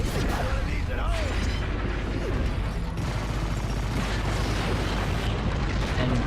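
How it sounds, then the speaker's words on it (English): Explosions and heavy combat noise in the Transformers: Fall of Cybertron video game, a dense, continuous roar of blasts and rumbling debris, loud and unbroken. "You guys can watch some epic explosions on screen."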